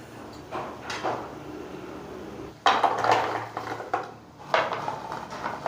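Fried goja pastries for jaggery-coated goja are lifted and strained out of oil, with metal clinks and clattering scrapes against the pan in three louder bursts over a low background, nearby and without speech.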